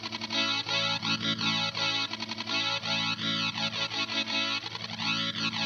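Continuous gnarly, distorted guitar tone through a Chase Bliss Onward glitch/delay pedal with a warbling, pulsing modulation that sweeps up and down, dense and steady throughout.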